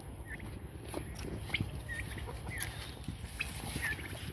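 Chickens in a farm shed cluck in soft, scattered calls amid a continuous background din of many birds, with a steady high-pitched hiss over it.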